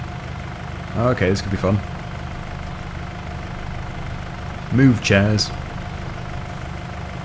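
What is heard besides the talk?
utility tractor engine driving through garden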